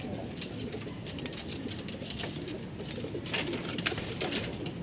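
Racing pigeons cooing at a loft in the morning, soft steady murmuring calls layered over a busy, continuous background with no clear talk.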